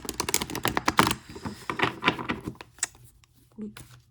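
Tarot cards being shuffled by hand give a quick run of crisp riffling clicks and flutters, dense at first and then thinning out into scattered taps.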